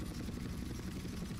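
Helicopter in the video game Grand Theft Auto: San Andreas during the Learning to Fly mission, a quiet continuous rotor drone with a low buzzing throb, steady and unbroken throughout.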